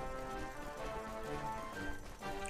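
Horse hooves clip-clop at a steady riding pace in the video game Dragon Quest XI, mixed in with busy game music and ambience.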